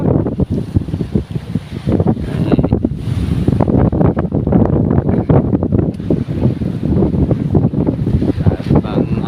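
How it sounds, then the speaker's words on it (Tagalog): Strong northeast monsoon wind roars and buffets the microphone while big whitecapped sea waves crash and churn close by, loud and continuous. "Malalaki ng alon na ulit."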